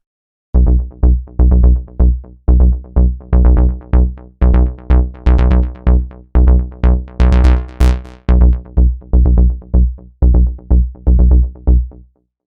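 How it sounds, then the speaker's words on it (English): A warm, fat square-wave synth bass patch in the Diva synthesizer plays a rhythmic pattern of short, punchy repeated notes in even groups, loud and alone with no talking. "it's this really warm and fat square bass"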